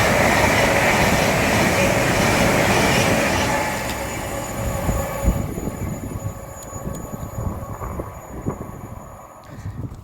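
A train passes through Grantham railway station with a loud, broad rushing roar that fades after a few seconds into a quieter rumble with faint clicks and rattles, heard up close on the platform and without talk.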